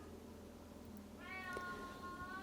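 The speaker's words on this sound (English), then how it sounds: "I can hear my cat outside." A house cat meows outside, one drawn-out meow rising in the second half, faint and distant over a quiet indoor background with a low steady hum and no talking.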